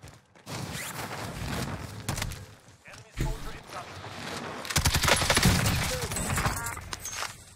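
Rapid, dense gunfire from the Call of Duty Warzone video game crackles in close, overlapping bursts throughout, with players' voices talking over the shooting.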